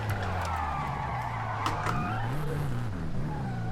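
In Forza Horizon 5, a car drifting through corners, played on a wheel, makes a steady engine drone as revs rise and fall, with short tyre skids and squeals over it and no talking.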